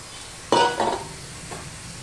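Spinach stirred and mixed in a frying pan after cooking covered, two brief scraping, sizzling strokes close by, then a fainter third, over a quiet background.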